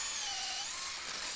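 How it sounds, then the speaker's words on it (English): A power drill whines steadily, high-pitched and continuous, as it bores a 12mm hole through macrocarpa wood for an outdoor table leg, close by with no voices. "Just drilling right through now."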